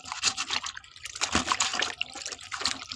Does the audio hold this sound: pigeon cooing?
no